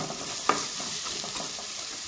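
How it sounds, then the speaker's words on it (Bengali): Carrots frying in a pan for a light vegetarian breakfast dish, giving a steady, close hiss of sizzling oil with a couple of soft stirring clicks and no voices. "তো গাজরটাকে দিয়ে আমি একটু কিছুক্ষণ ভেজে নেব।"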